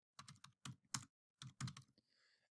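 Quick bursts of typing on a computer keyboard as a note is written, close, crisp key clicks in uneven clusters with short pauses, quiet overall and with no talking.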